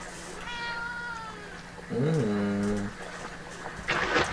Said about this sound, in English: It's my cat, Catherine.